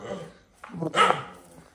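A dog lets out a short burst of barking, one or two sharp, close barks, against a quiet background.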